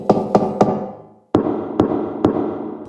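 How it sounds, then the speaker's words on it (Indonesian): Knocking on the wooden doors of village houses at midnight: a quick burst of three sharp raps, a brief pause, then three more firm knocks, loud and close with a slight room echo. "seluruh desa terbangun di tengah malam oleh suara ketukan di setiap pintu rumah mereka"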